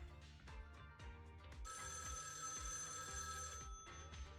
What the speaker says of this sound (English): What kind of phone ringtone is that?